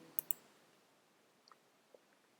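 A few crisp computer mouse clicks, two close together at the start and then fainter isolated ones, sound alone against a near-silent background while a media item is selected in a playlist.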